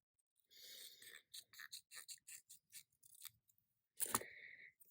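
Scissors cut paper circles in half in a quick series of close, crisp snips, followed by one louder crunching cut.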